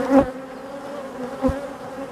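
Honey bees swarm and buzz around a hive with drone comb, a steady close hum with a couple of louder passes as bees fly near.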